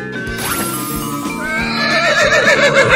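A horse neighs loudly in a long, wavering whinny, with hooves clip-clopping rhythmically beneath it.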